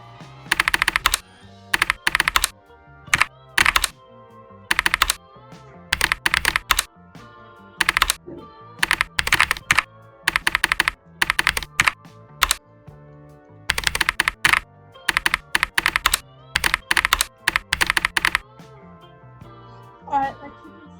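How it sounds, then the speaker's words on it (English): Fast bursts of clacky keystrokes on a SteelSeries Apex Pro V2 keyboard with custom key sounds, typed in quick rhythmic runs separated by brief pauses, close and crisp. "That keyboard sound is okay."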